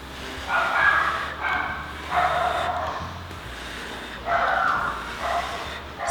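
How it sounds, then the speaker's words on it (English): A dog barks inside a house in several short clusters of yips and woofs, slightly muffled and off to one side, with brief pauses between bursts. "Sorry if you hear my dog in the background. I guess someone's at the door."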